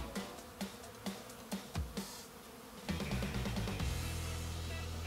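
Honeybees buzzing at an open hive during a late-February colony inspection. A steady hum runs throughout, with several sharp knocks of frames being handled early on, then a denser, louder buzz with no talk.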